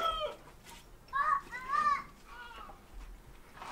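A child imitates a rooster crowing in the Russian countryside, with a few rising, strained calls in a row and other young voices and background noise around them.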